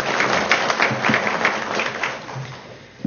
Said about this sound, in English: So let's give our Gates Scholars and our other seniors a round of applause.